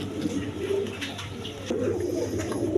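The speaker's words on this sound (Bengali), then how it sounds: "এখানে এক পেয়ার লোটন কবুতর আছে অরিজিনাল ইন্ডিয়ান লোটন কবুতর" A pair of original Indian Lotan pigeons coo in low, rolling bursts, close and steady and unbroken by talk.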